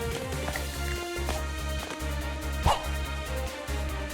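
A puppy in the video game A Hat In Time barks in short repeated yips over steady looping game music, one louder bark standing out near the middle.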